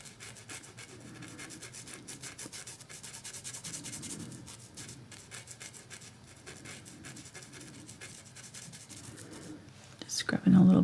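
A paintbrush scrubs acrylic highlight paint onto a dry painted canvas, making soft, repeated brushing and rubbing strokes close by. The sound is quiet, and a faint bump comes at the end.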